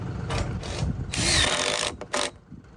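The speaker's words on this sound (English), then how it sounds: "We're running a screw up top here." Power tool driving screws into roof purlins on steel pole barn trusses, several short whirring bursts with pauses between them, close and loud.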